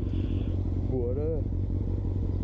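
Motorcycle engine rising in pitch as it accelerates on the road near the Ponte das Lezírias in Ribatejo, loud and close with steady rumble and wind, a voice talking over it.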